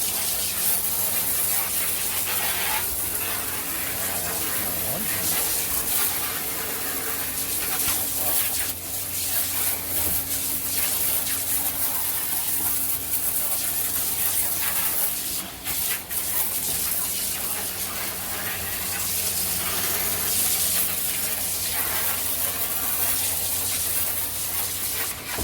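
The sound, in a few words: water spraying to make pond water flow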